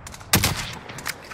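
A single sharp sniper rifle shot in a video game, sudden and loud, cracking out and fading over the following moment.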